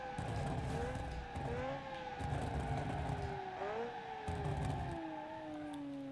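Analogue supercar engine from a 2004 challenge build revving and pulling through the gears, with rising then dropping engine tones and gear changes, loud and close, no talk over it.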